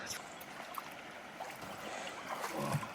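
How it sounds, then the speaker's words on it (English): Shallow river water splashing and trickling as cyclists wade across on foot pushing their bikes in cold early-morning bush, soft close sloshing and running water with occasional louder splashes. "And we have to cross this river."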